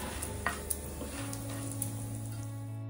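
Chana dal and urad dal are stirred as they fry in ghee in a pan, giving a soft sizzle with a few light scraping clicks, quiet and close, with no voices.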